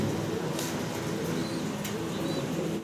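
Pigeons at a breeder's loft cooing softly and steadily amid a busy, constant background murmur, with a couple of faint higher chirps, moderately close.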